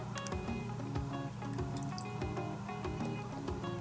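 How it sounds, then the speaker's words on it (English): Two tablespoons of warm water are poured into a bowl while mixing a bouncy-ball slime, a close, continuous splashing and dribbling with small drips throughout. "Now in a new bowl, put 2 tablespoons of warm water."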